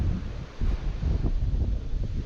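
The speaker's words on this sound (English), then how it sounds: "Wind's kicking up." Wind gusting on the Blue River during trout fishing, buffeting the microphone in steady low rushing bursts with faint rustle, no talk.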